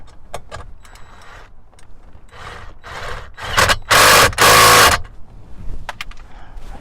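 A ratchet working a 10mm bolt loose from a metal base gives a run of rubbing, clicking strokes, building to two loud bursts of rapid ratcheting in the middle before fading to scattered light clicks.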